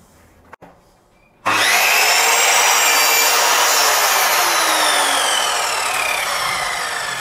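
A Ronix 8-inch non-sliding miter saw crosscuts a wooden beam. A brief click comes first, then the motor starts abruptly into a loud, steady whine that carries on with the blade biting into the wood, close up and without talk.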